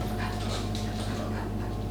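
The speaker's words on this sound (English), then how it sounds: "Is that my dog?" A dog whimpers and pants faintly indoors at a book event, soft canine sounds sitting under a steady low hum of the room.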